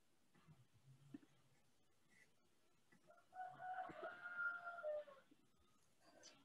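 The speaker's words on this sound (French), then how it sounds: "Il y a le coq qui se réveille." A rooster crows once from some distance, a single drawn-out call lasting about two seconds, heard over a quiet indoor background with faint scattered sounds before it.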